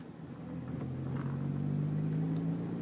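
A manual-transmission car engine pulls steadily through the gears, its close, even drone climbing gradually in pitch with no pause.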